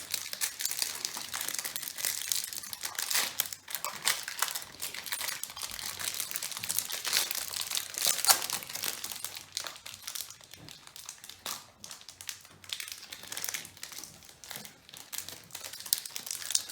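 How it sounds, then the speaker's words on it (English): Packs of 1991 Traks racing cards are torn open and handled, giving continuous close crinkling and rustling of wrappers for the whole stretch. "we're going to open up some of these and see if we can get a Jeff Gordon rookie"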